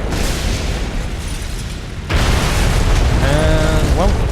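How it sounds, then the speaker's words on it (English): A rocket fired from an Il-2 plane in the video game War Thunder: a steady engine drone, then a sudden loud boom that raises the roar, followed by rising whistle-like tones near the end. "So let's just get the rockets out. Let's fire one."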